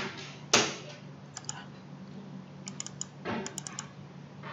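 Keys tapped on a computer keyboard while filling in a form, a sharp click early on followed by scattered light keystrokes and a short burst of typing, close and fairly quiet against a steady hum.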